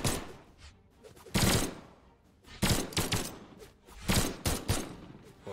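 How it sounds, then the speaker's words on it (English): Gun battle in a fighting video game, with several sharp, loud bursts of shots in quick clusters separated by brief quieter gaps, each burst crackling with layered impacts. "Both of them trying to have this gun battle, neither of them connecting yet."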